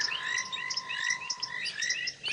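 A thick-knee bird's repeated wailing calls rise over a steady chorus of frogs outdoors at sunset on an African safari, heard from some distance, with no talking.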